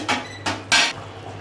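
Potato pieces are dropped one by one into a pot of simmering mutton curry, three separate quick splashing thuds close by, with quiet pauses between them.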